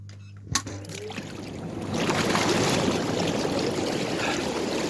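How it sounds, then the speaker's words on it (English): Bath bubble jets start after a soft click, swelling into a loud, continuous rushing and bubbling of water that fills the rest of the moment with no talk. "I'll put the bubbles on and you probably won't hear a thing thereafter."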